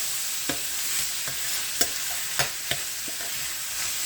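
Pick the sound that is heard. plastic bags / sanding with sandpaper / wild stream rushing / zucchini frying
zucchini frying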